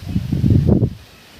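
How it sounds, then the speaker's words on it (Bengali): Strong wind gusts rush through leaves in a dense, rustling roar that swells and then fades, with no voices. "প্রচণ্ড হাওয়া বইছে"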